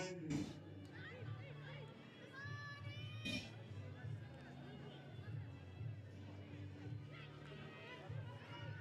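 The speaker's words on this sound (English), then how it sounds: "it's a great crowd here this evening" Spectator crowd hubbub at an under-18 schoolgirls' rugby final in Wellington, students from both schools in uniform, evening; a steady wash of distant chatter, cheering and shouts, with children's voices and brief louder bursts rising over the murmur.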